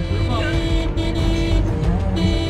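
Car horn honks near a parked car, ringing out over steady engine and street noise, with people talking in Filipino and English around it.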